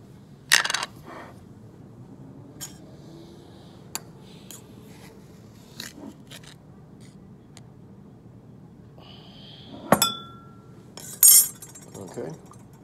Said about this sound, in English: I'm stirring, stirring, swirling.